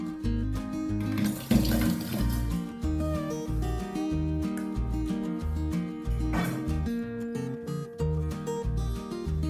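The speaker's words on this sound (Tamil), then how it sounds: "மண்டவெல்லம் முங்குற அளவுக்கு தண்ணி ஊற்றிக்கிட்டு நம்ம பாகு வச்சு வடிகட்டி எடுக்கணும்." Water is poured over jaggery to make syrup for millet payasam, a steady running splash heard over background music.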